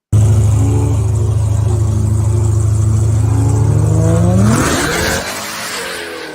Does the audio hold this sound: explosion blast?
no